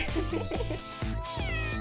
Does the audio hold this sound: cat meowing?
yes